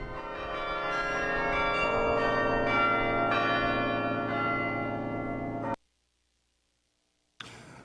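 Church-style bells ring loud and resonant, a dense layered peal with long sustained tones that cuts off abruptly near the end, a pause of silence, then bells return briefly.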